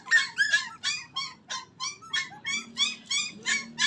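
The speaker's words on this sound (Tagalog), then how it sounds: "ang ating aso" A dog gives a rapid series of about a dozen high, whiny yelps or whimpers in an even rhythm, fairly close and moderately loud, with faint background noise.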